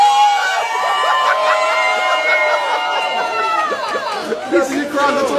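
A crowd cheers and whoops at a live demonstration of a plastic-to-fuel machine, with overlapping shouts, hollers and chatter forming a loud, continuous roar close by.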